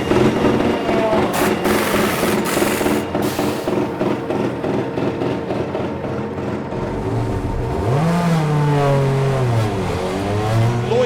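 A BTCC touring race car at a 2023 race accelerates out of a hairpin, its engine droning loudly and steadily before pitch sweeps rise through the gears near the end.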